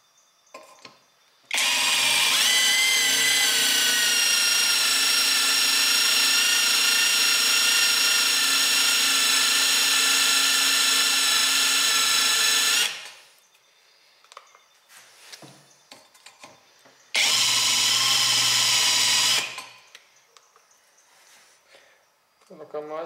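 A power drill with a drill bit bores a hole, oiled as it cuts, with a loud, sustained high whine for about eleven seconds, then a shorter second burst, with quiet handling noises between.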